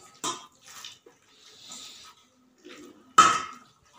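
Chopped banana flower mashed by hand in a bowl for a vegetarian mochar ghonto, giving a few wet squelching, slapping pulses with quieter soft squishing between them, close and alone.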